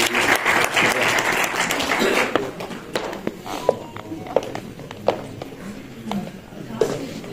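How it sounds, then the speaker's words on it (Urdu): Audience applause greets a speaker stepping up to the stage at an International Human Rights Day event, loud and dense at first, then thinning into scattered claps with a few sharp individual hits. "ایک بھرپور تالیوں میں استقبال کیجیے"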